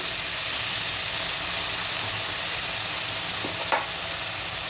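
Finely chopped spinach sautés with leftover dal in a pan, a constant close sizzle and hiss with faint stirring, broken near the end by a couple of sharp utensil clinks.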